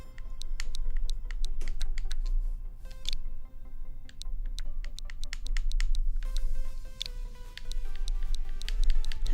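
A redeem code is keyed in on a Nintendo Switch during initial setup: a steady run of sharp, close clicks and taps, irregularly spaced, with a brief pause partway through, over a low background hum.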